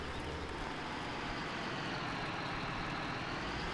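A tractor engine idling in Farming Simulator 17, a steady broadband rumble with low throbbing, constant and close with no variation over a few seconds.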